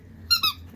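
A dog bites a squeaker toy and gives two quick high squeaks close by, with no talking.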